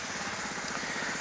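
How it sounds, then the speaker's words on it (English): A jackhammer pounds away in the background as a steady, rapid mechanical rattle, continuous and fairly distant, with no voices over it. "oh, there goes a jackhammer."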